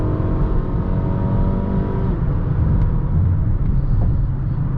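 A 2020 Mazda CX-5 engine pulls steadily under acceleration from inside the cabin, its droning hum continuous and fairly loud, with the pitch settling as the transmission shifts.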